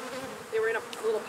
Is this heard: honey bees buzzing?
yes